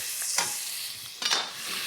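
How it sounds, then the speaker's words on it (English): Garlic sizzles steadily in olive oil in a pan as it is stirred, with two brief scraping bursts of utensil against metal. "You can hear it sizzling almost instantly."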